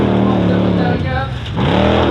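A Formula Offroad race car at a Norwegian championship round in Telemark revs loudly and close, its engine note dipping and climbing again, with a voice talking over it.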